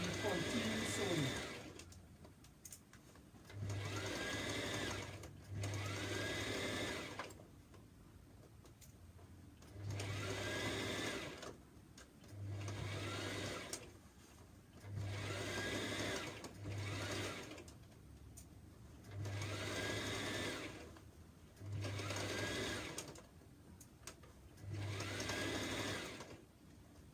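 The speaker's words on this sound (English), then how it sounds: "They give a little back stitch, not much, and you continue sewing." A sewing machine stitches fabric for a simple top in repeated runs of steady mechanical whirring a few seconds long, separated by brief pauses, close and clear with quiet speech between bursts.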